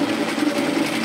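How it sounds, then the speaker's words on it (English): Sewing machine running steadily, tack stitching a garment seam on an apron dress, a close, loud, continuous whirring hum with no pauses and no voices. "Tack stitching it together."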